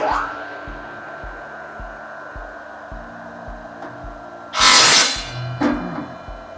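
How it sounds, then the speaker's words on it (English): A hose cutting machine with a serrated disc slices through hydraulic hose, a steady motor whine with regular thumping, then a loud harsh burst of cutting noise near the end. "this enables the cutting machine to efficiently and smoothly cut through the hose"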